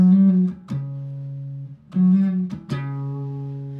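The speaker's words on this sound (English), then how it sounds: "I'm just slapping it once, let the pull off." A bass string is slapped and a note rings, followed by a sharp pull-off to a lower note, repeated twice in a clean, bright tone.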